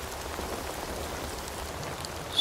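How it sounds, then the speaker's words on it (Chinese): Heavy rain falls as a continuous, even hiss of dense drops with no letup, fairly soft and unaccompanied by voices. "如此大雨"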